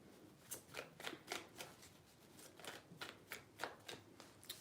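Tarot cards being shuffled in quick repeated riffles, a steady rhythm of about a dozen papery bursts, close and fairly soft, with no talking.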